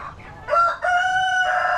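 Ready-to-lay hens on a poultry farm, a rooster crowing in drawn-out tonal calls at close range, with faint clucking and farm background underneath.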